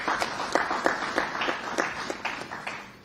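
An audience at a student venture capital grant launch in Abuja applauds the President, a steady medium-loud patter of clapping with sharp individual claps standing out throughout.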